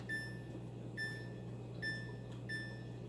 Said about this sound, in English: So let me set my timer.